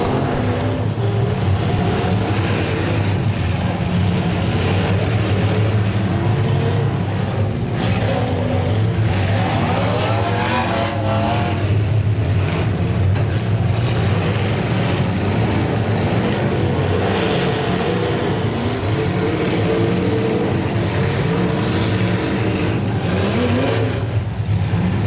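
Stock cars at a demolition derby roar and spin around the arena, a continuous loud, dense engine rumble with swelling revs and grinding mechanical noise throughout.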